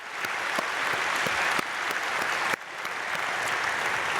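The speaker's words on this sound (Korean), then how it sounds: "우리 사랑하는 자녀들에게 박수로 한번 축복해 주시면 감사하겠습니다." The congregation at a Myungsung Church dawn prayer service claps warmly for the children. Steady, full applause fills the room with only brief dips and carries on without any talking over it.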